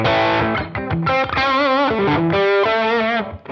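A loud distorted electric guitar lead tone plays a short melodic phrase with sustained, bending notes.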